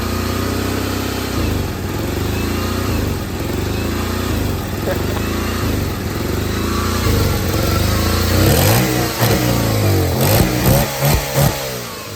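Small Honda engine running close and loud with a steady chugging idle that rises into a few quick revs near the end, with a voice talking over it.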